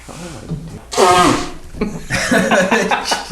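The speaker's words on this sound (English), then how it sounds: "I'm gonna blow my nose." A person blows their nose forcefully in two loud honking bursts, close up, with some muffled voice and breathing around them.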